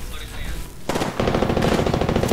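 Rapid automatic gunfire in the video game Apex Legends, a dense stream of loud, close shots after a brief lull, continuing steadily to the end.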